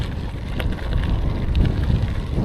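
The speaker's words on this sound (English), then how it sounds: "Oh, bit of wind." Strong wind buffets the microphone during an off-road gravel bike ride, a loud continuous low rumble with gusts that swell and fall and no voices.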